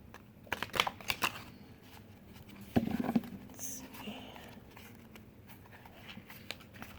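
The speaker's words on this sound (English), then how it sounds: "I think this is like the best way I've been able to find a way to shuffle them" Large tarot cards slide and riffle in a few quick bursts of papery patter, close by and fairly soft, with a brief louder shuffle near the middle.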